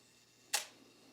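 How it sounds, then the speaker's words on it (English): A Nikon FE2 film camera's mirror flips up and its shutter releases, one sharp, close mechanical clack with a short tail, alone in a quiet room. "and the shutter releases"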